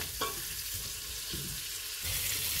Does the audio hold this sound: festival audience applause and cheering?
no